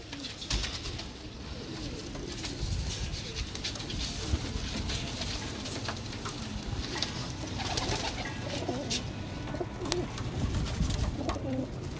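Pigeons coo steadily and softly in a close, continuous chorus, with low throaty calls overlapping throughout and no talking.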